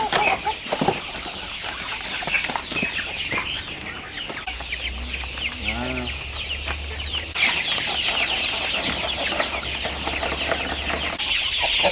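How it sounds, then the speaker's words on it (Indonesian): Free-range village chickens on a farm in Banyuasin cluck and chatter at close range, with a rooster's crow rising partway through and a low engine hum underneath. "Salah satunya peternak ayam kampung."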